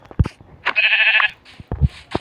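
A sheep in the video game Minecraft Bedrock gives one loud, wavering bleat near the middle, framed by soft, quick thumps of movement before and after.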